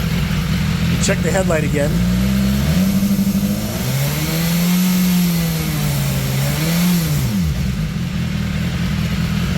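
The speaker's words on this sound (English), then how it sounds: "Going to run the bike." A 2018 BMW S1000XR motorcycle engine runs steadily nearby, with several rising and falling revs, while a person speaks briefly over it during stator replacement work.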